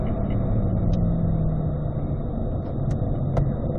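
C8 Corvette engine rumbling steadily as the driver downshifts with the paddle shifters while slowing for a right-hand corner, with a few short sharp blips near the end.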